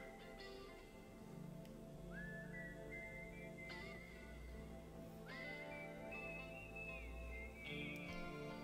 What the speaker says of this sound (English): The whistling mimics the wind.